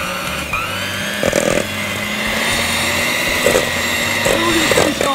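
An electric mixer whirs through Reese's cake batter with a loud steady motor hum close by, its pitch wavering slightly as the beaters move through the bowl.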